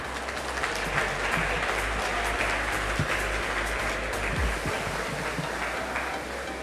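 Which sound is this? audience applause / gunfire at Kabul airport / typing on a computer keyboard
audience applause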